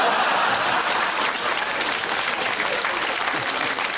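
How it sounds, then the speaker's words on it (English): Studio audience applauding on a British panel comedy show, a dense, steady wash of many hands clapping that stays loud and even throughout. "I think that is worth a round of applause"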